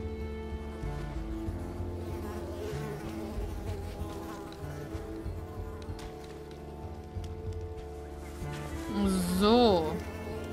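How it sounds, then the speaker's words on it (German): Mosquitoes buzz in the platform video game Unravel, a close, whining drone that wavers and swells louder near the end over steady game music. "diese scheiß Mücken, ey. Es ist ja wie in echt."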